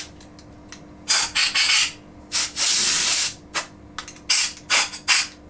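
Compressed air from a workshop airline blows out the end of a DIY powder coating gun beside an extractor fan, in a series of sharp hissing bursts, some short and some held for about a second, loud and close with quiet gaps between them.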